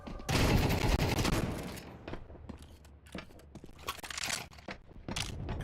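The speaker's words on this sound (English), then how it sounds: "Throwing flashbang." A flashbang grenade thrown in a multiplayer shooter video game sets off a loud, harsh burst, followed by crackling, popping gunfire and scattered bangs.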